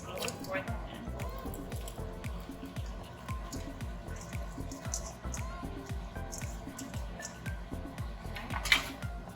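Tomato sauce poured slowly into a pan of zucchini, soft wet drips and trickles with faint sizzling, heard quietly beneath someone talking throughout.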